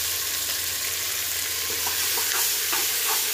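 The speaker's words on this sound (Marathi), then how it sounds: "छान असं हे सगळं भाजून घेऊया थोडा वेळ। टमाटा आणि बटाटा टाकून घेतलेला आहे मी, ते थोडं छान असं भाजून घेऊया।" Onion, peanuts, chilli, tomato and potato frying together in a pan, a dense steady sizzle with soft rhythmic stirring strokes toward the end, close and fairly loud.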